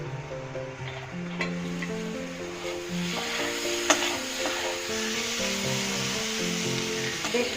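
Malabar spinach curry ingredients fry in a pan, giving a steady, close sizzle that lasts throughout with a faint, constant tonal hum underneath.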